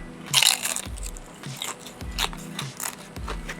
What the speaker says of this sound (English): As you can hear, they're very crunchy.